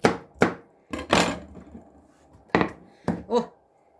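A knife slices a sweet bell pepper into rings on a board, giving a handful of sharp, close cuts in uneven bursts with brief pauses between, heard alone.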